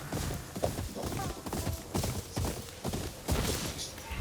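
Horse hooves in the samurai video game Ghost of Yōtei, a steady rhythmic clip-clop of a ridden horse that stays close and fairly quiet in a busy game soundscape, with light ambient noise beneath.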